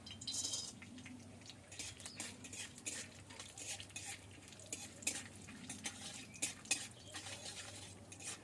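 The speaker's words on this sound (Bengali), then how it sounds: "প্রথমে আমি বাদামটা ভেজে নেব।" Peanuts fry in a pan for a samosa filling, giving a steady close sizzle broken by frequent clattering scrapes of a spoon stirring them, with no voices.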